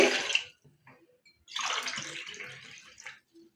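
Water poured from a 200 ml tumbler into a cooking pot set on a gas stove, in two splashing pours: a short one, then a longer steady stream, with quiet gaps between.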